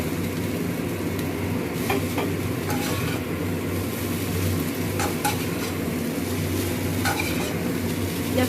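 Chowmein noodles stir-fried in a pan in a home kitchen, with a steady dense sizzle and repeated scraping and clinking of a spatula against the metal, close and continuous.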